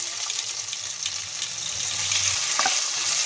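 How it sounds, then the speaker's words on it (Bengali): Ginger frying with whole spices in hot oil in a kadai, a bright steady hiss of sizzling oil that swells slightly louder toward the end, with a faint low rumble and no talk. "হালকা ফ্রাই করে নেব আদাটা।"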